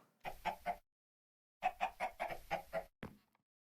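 Chickens in the blocky survival game TerraFirmaCraft cluck in two short clear bursts, three clucks then a quicker run of six with a final squawk, close and alone against silence.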